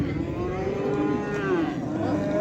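Oxen at the Wednesday livestock market in Shahrisabz give a long, loud, wavering moo that carries over a steady background crowd din for the whole stretch.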